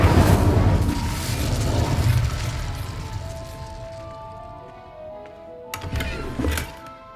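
The Incendio fire spell in Hogwarts Legacy goes off with a heavy booming burst of flame. It fades into a rumbling tail with a faint ringing tone, and a sharp smaller crackle comes near the end.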